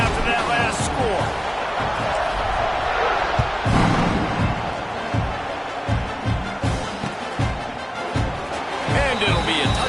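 Football stadium crowd buzzing just after a touchdown as the teams line up to kick off, a dense roar of many voices with scattered thumps and claps, loud and continuous beneath a broadcaster's talk.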